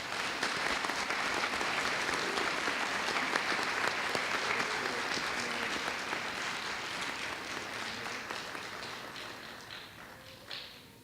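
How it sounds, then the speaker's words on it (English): Applause fills a school district board meeting as kindergartners are honored, a steady crowd of clapping hands that gradually thins and fades toward the end, with a few last scattered claps. "Round of applause."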